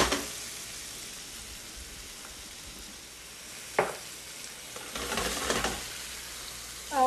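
Carrots and figs sizzling in a pan, a steady close frying hiss with a couple of sharper crackles and a brief stir, with no talking.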